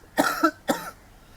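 Two harsh coughs close to the listener, a longer double burst followed by a single shorter one, with quiet room tone around them.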